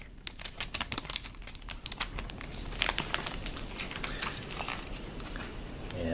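An Amazon Fire Phone is lifted out of its plastic wrapping, giving a close run of crinkling and rustling plastic with sharp crackles that settle into a softer, continuous rustle.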